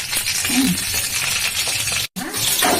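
Cumin seeds crackling and popping in hot oil in a kadai, a dense continuous sizzle with scattered sharp pops, close and fairly loud, briefly cut out near the end.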